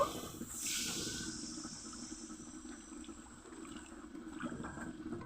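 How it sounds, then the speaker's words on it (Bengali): Water is poured into a pan of potato and hilsa fish curry, a close hissing gush at the start that settles into a steady simmering hiss. "এখন জল দিয়ে দিব"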